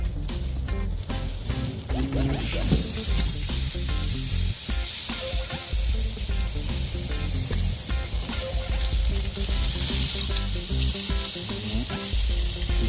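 Jamaican jerk pork ribs in homemade marinade sizzle and crackle steadily on a grill just after being flipped, a dense continuous hiss with popping fat and occasional clanks, fairly close and loud throughout.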